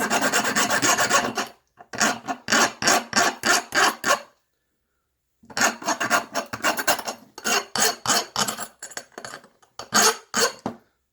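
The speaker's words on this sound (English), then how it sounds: "I just went across it with my files" A metal file rasps across an enamel pin, filing off a burr in quick repeated strokes, several bursts of scraping separated by short pauses.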